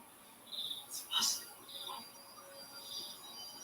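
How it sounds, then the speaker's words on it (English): Soft, high organic chirps and bird-like tweets from a handheld device pad in Doctor Who, a few scattered calls over a faint hissy background, quiet and fairly distant. "it's got like very organic and bird sounds to the pad that she's using"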